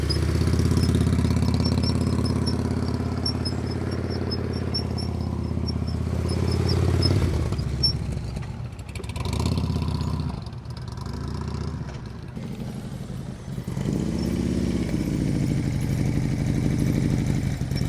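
A motorcycle engine putters at low revs during slow speed riding practice in North Carolina, a steady close idle-like drone that rises and falls gently with throttle and clutch changes.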